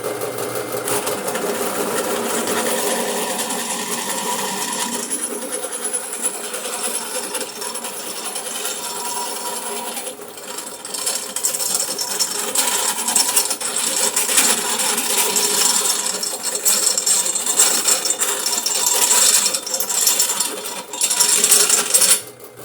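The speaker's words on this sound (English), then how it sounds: "So let's see if we can get these holes drilled." A drill press bores holes into steel sawmill trackways, giving a long continuous whine and grinding that grows rougher and louder midway, with no talking.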